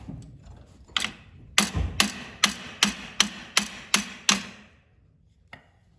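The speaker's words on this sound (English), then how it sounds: "I just use a 2-pound hammer and just give it a couple little taps" A series of about eight sharp metallic taps from a 2-pound hammer seating a part onto a ball socket on a John Deere Model 37 sickle mower, evenly spaced, with a softer knock before them and a faint one after.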